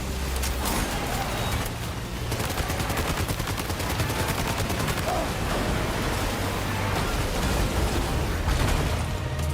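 Dense, continuous gunfire in the Death Stranding 2 video game, loud and sustained with rapid overlapping shots and a constant roar underneath throughout.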